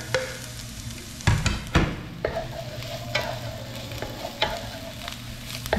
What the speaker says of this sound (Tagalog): Yung mantika nito ay pinagprituhan natin ng carrots at patatas. Nalagyan na rin natin si sibuyas.